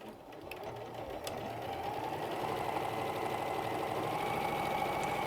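A sewing machine stitching a fabric seam for an appliqué wall hanging, running in a fast, even mechanical whir that holds steady close up, with no one talking.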